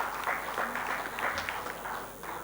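An audience applauds a speaker being introduced at a panel on technology and a digital future, a moderate, fairly quiet round of clapping with scattered individual claps standing out, tapering slightly toward the end.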